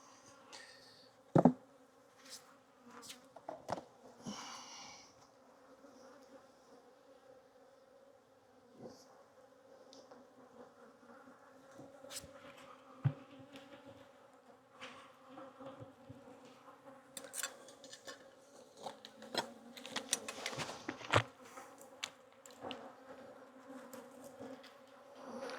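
Honey bees hum around winter hives in a southeast apiary of some 35 to 40 colonies, a faint, steady drone with scattered louder passes and occasional knocks nearby.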